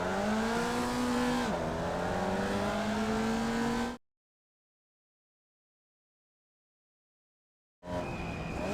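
Formula Vee race car in the iRacing sim at a race start, its engine droning at steady revs, dipping briefly and then climbing gradually, before cutting to silence and returning near the end.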